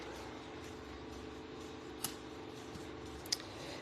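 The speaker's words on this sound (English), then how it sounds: "let's go ahead and trim the edges" Scissors trimming edges, heard as two faint, brief snips a moment apart against a quiet, steady room hum.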